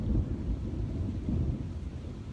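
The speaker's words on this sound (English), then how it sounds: "thunder." A low, rolling rumble of thunder fills the whole stretch, deep and continuous with surging swells, like a distant storm, with no talk.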